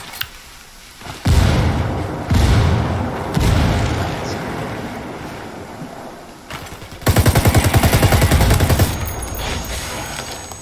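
Video game combat: a frag grenade blast and heavy gunfire, with loud booming bursts from about one second on and a dense rapid automatic-fire barrage near the end, close and loud without speech.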